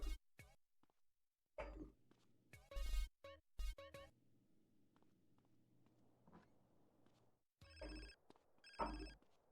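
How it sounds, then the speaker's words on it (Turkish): Phone rings in GTA San Andreas come in two clear bursts late on. Coughs, clicks and short game noises come before them. "Ve bir telefon."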